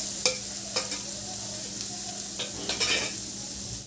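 Ginger and a small tomato being stirred in a hot frying pan, with a steady sizzle broken by several sharp scrapes and clinks of a spoon against the pan.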